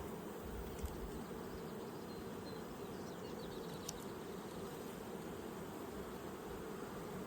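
Honeybees hum in a dense, steady drone around an open colony during a hive inspection, the buzzing close and continuous with a couple of brief louder passes near the microphone.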